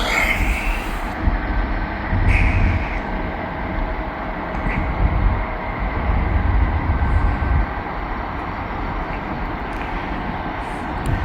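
Freight train locomotive passing slowly, a steady low rumble and rolling clatter of wheels on rail at close range, loud and continuous throughout with no talking.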